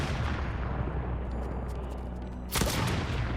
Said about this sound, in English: when I walk into their line of sight, they start shooting